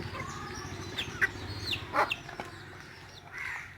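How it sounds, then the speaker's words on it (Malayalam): Backyard chickens, including native hens, Aseel crosses and Karinkozhi, cluck in short scattered calls over a low rumbling background. "നാടൻ കോഴികളുണ്ട് പിന്നെ അസീലിൻ്റെ ക്രോസുകളുണ്ട് കരിങ്കോഴി"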